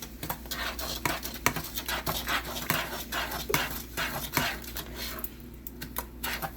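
Egg and brown sugar mixture being stirred in a pan over the flame, giving a steady run of scraping and light clinking strokes in an irregular rhythm, close and moderately quiet, with no voices.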